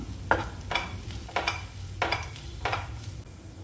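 Chili powder sautéing in a pan for a clam meat fry: a low sizzle under four evenly spaced scraping stirs of a spoon against the pan.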